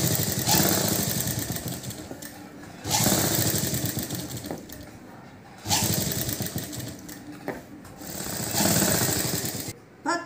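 A sewing machine stitches a blouse's back neck facing onto its lining cloth, running in three loud, steady bursts of rapid mechanical whirring separated by brief pauses.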